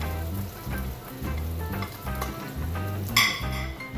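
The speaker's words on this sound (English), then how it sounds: "Then we're going to want to put the green beans back into the pan." Green beans sizzle loudly in a hot pan as they are returned to it, with a steady frying hiss, a few metallic clinks of pan and utensil, and a sharper burst of sizzling near the end.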